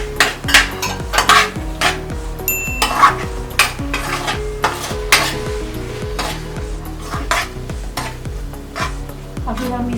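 Soy sauce is stirred into chilli chicken in a hot pan: a utensil scrapes and knocks against the metal in a brisk rhythm over a sizzle, with music underneath.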